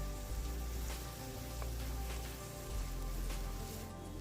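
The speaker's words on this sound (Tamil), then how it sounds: "இது வந்து நல்லா பச்சை வாசனை போகிற வரைக்கும் மிதமான தீயிலே வந்து இதை நல்லா வதக்கிக்கலாம்." Chopped onions sautéing over a medium flame in a pan for a Tamil-style green hariyali chicken, a steady close crackling sizzle with soft pops, no voices.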